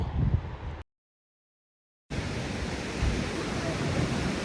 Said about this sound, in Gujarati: જો આ ધોધ જુઓ એટલે ઊંચેથી પડે છે